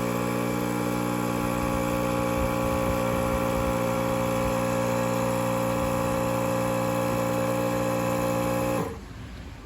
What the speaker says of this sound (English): I'm turning the compressor on and checking that it's at 17 psi